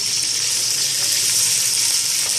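A little water pours steadily into a pot of green chilies, whole garam masala, crushed red chili and ground chili for chana pulao, giving a continuous close hissing gush with no break and no talking.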